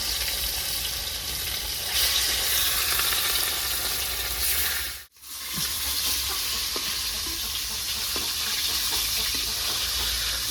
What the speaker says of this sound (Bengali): তো বন্ধুরা মাছটা দিয়ে দেবো। তেলটা গরম হয়ে গেছে।